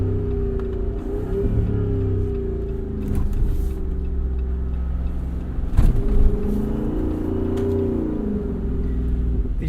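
A Jeep Wrangler engine on 315-section tires revs loudly in snow as all four wheels spin, a close, droning rumble that rises and falls in pitch in two long surges, with no talk.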